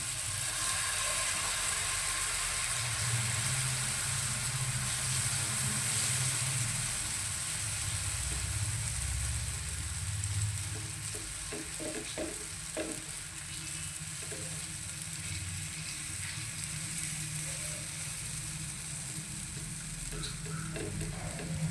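Uttapam fries in oil on a pan, a steady crackling sizzle that lasts throughout under a low background hum, with a few sharper pops partway through.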